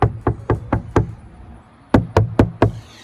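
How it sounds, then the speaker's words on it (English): A bare hand knocks on a sound-deadened Volvo 240 car body panel: five firm, evenly spaced raps, a brief pause, then four more, each dull and damped with little ring, close and loud. "even though it's just my hand knocking on it"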